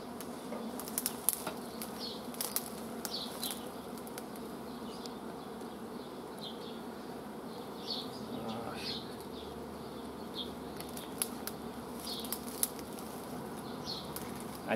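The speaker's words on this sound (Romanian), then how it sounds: "Aici este mai mult albină." Dense, steady buzzing of honeybees at an open hive during frame inspection by beekeepers, a continuous swarm drone that fills the whole stretch, with scattered close wing passes and faint knocks and taps from handling.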